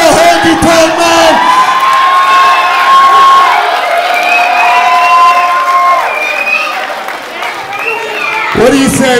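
A wrestling arena crowd roars and cheers continuously, loud and dense with whoops and shouts, while an announcer's voice carries over the noise.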